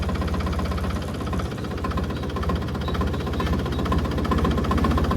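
A tractor engine runs in gear with a steady, close, rhythmic low chugging and knocking throb, holding constant and slightly rising in loudness, with no voices.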